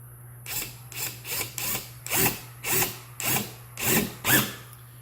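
A Black & Decker impact driver drives a screw into wood without a pilot hole, producing about eight short, rattling bursts in a quick, regular rhythm, close and fairly loud over a low steady hum.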